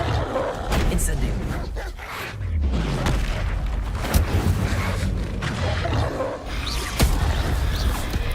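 Repeated booming fire spell blasts from Hogwarts Legacy, several heavy whooshing bursts in quick succession, loud and close over a dense battle-like rumble.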